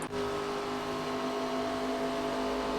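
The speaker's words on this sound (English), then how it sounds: "I hear a car getting closer" A NASCAR race car in the iRacing sim at Las Vegas, an ARCA Series event, hums steadily with a sustained engine drone and whir that holds at an even level throughout, with no talk.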